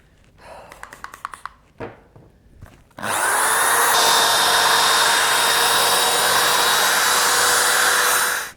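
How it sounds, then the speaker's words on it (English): A drill brush scrubs fabric car mats, whirring loudly and steadily for several seconds after some brief rustling and handling noises. "So this drill brush does work quite well."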